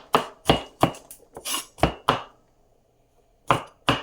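Knife dicing garlic on a cutting board, a run of sharp, evenly spaced chops, then a brief pause of near silence before two more crisp chops, close and alone.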